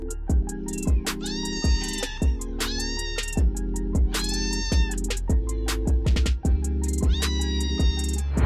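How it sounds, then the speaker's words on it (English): A kitten meows repeatedly in short, high cries, close by, over a continuous low hum. "This little kitten is so cute."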